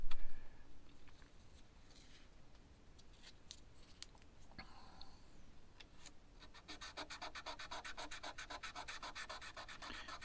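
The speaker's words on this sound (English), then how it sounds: "So I'm not scraping the fretboard, I'm scraping the fret." Frets on a Grote GR35MT guitar scraped and then polished, starting with irregular soft rubbing and scratching before settling into fast, even back-and-forth strokes, close and quiet.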